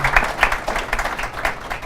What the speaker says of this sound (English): Can we give them a round of applause just for being here today?